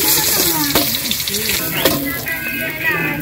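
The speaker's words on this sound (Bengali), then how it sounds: "তেলে জিরে দিয়ে দিলাম" Cumin seeds crackling in hot oil in a Bangladeshi village kitchen, a steady close sizzle with brief pops and stirring, while people talk faintly in the background.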